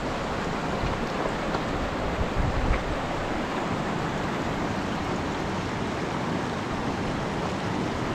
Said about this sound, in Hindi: मैं आपको दिखाता हूँ, यहाँ पे छोटी सी स्ट्रीम बह रही होगी उसके अंदर।